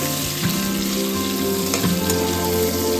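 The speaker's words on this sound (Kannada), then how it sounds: "ಚಿಕ್ಕದಾಗಿ ಕಟ್ ಮಾಡಿದ ಆನಿಯನ್ನು ಹಾಕಿ ಚೆನ್ನಾಗಿ ಫ್ರೈ ಮಾಡಿ" Chopped onion frying in oil with dried red chillies in a pan for mentya pulao, a steady close sizzle with a few soft stirring scrapes and no talk.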